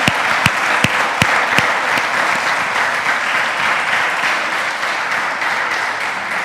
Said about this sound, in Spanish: Dios merece un aplauso.